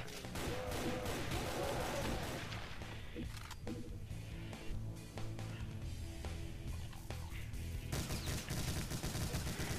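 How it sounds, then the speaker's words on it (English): Minigun fire in the first-person shooter Doom (Brutality mod), a dense, continuous rattle of rapid shots with crashes and blasts layered over game music, loud and close throughout. "the minigun is probably the best way for you to just decimate uh, enemies"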